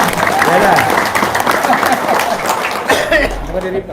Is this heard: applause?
yes